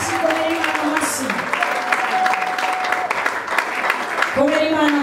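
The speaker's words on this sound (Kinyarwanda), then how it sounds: "Komera Imana amashyi" Congregation clapping together during a church service, a dense steady patter of many hands lasting throughout, with voices calling out over it and a clear tonal voice line running beneath.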